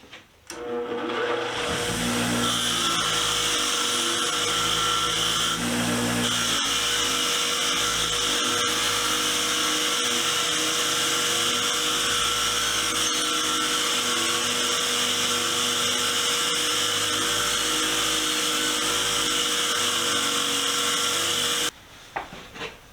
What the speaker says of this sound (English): I say we throw it on the wire wheel and start cleaning this thing up